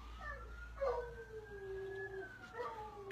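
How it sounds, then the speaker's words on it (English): A dog howls with long, wavering, rising and falling tones, close and fairly loud, sustained for about three seconds with a brief swell near the start and no talking. "Can you hear my dog? He howls at the sirens."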